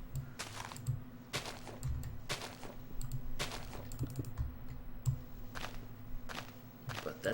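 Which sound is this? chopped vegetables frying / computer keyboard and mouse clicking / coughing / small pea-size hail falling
computer keyboard and mouse clicking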